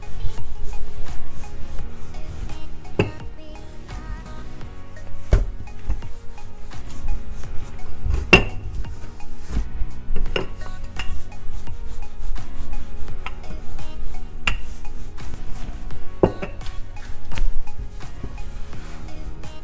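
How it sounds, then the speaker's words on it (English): Cinnamon roll dough being rolled out with a floured rolling pin, giving repeated rubbing, scraping strokes with occasional knocks, close and fairly loud, with no talking. "And then I'll be using a rolling pin."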